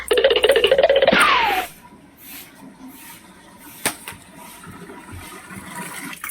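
Water gushes and splashes out loudly for about a second and a half, then cuts off, leaving a quiet room with a single faint knock.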